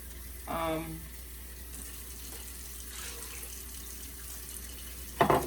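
Water pours steadily into a cooking pot for rice and red beans, a soft continuous rush near the mic with a brief vocal sound near the start.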